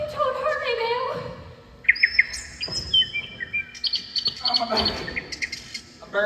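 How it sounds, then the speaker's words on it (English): A bird chirps and tweets in short bright bursts, nesting in an old, dusty wig, with squawky calls scattered through the clip while people talk around it. "A bird really did nest in that old dusty wig of hers"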